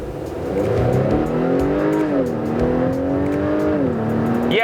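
Turbocharged 2021 Acura TLX A-Spec with a 10-speed automatic accelerates hard, the engine note climbing in a strong rising drone, dipping briefly at a gear change and then climbing again, loud and heard from inside the car.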